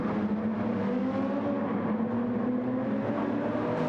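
A race car in a racing game enduro at Fuji Speedway gives a loud, steady engine drone with a rising pitch as it accelerates toward the line. It holds a continuous roar with no speech over it.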